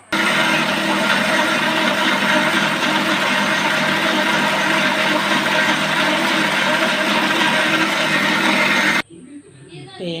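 A kitchen mixer grinder grinds soaked ingredients into paniyaram batter with a loud, steady whirring roar for about nine seconds. It then stops abruptly, and a short stretch of quieter sound follows.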